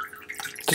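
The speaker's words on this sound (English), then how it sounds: "I'm going to turn the fountain on a little bit so we get some water going here" A small water fountain running onto a sharpening stone for chisel and plane blade sharpening, giving a soft, quiet trickle and splashing that swells slightly toward the end, close and without talk.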